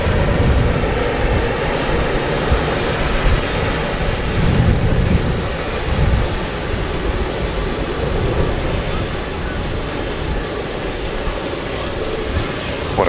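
Airbus A380 taxiing at Manchester Airport, a loud, sustained engine roar with gusty wind noise, a voice briefly audible beneath it.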